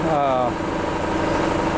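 1938 Caterpillar D13000 power unit, the power-unit version of a D8 engine, running with a loud, close, steady mechanical rumble and a brief rising tone early on.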